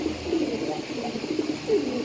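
A pair of Bombay pigeons coos nearby in soft, repeated low bursts over a steady background.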